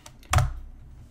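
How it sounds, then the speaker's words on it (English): Several quick key presses on a computer keyboard as a web address is typed into a browser address bar, with one firm central keystroke louder than the soft taps around it, close and alone without talking. "we're going to type a"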